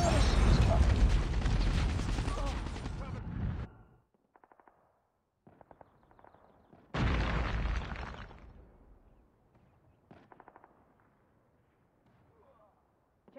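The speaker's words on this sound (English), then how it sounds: "Changing mag." In Call of Duty Mobile, bursts of loud gunfire and explosions give way to short mechanical clicks and clacks of a magazine reload, with quieter gaps between, under game voice callouts.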